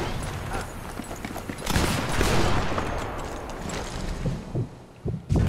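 Gunfire in the Sniper Elite 4 video game, a few sharp shots and cracks over a rumbling background, loud and near, with a burst of heavier reports toward the end and no talk.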